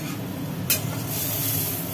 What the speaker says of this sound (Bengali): এটা কি আলু উচ্ছে ভাজা?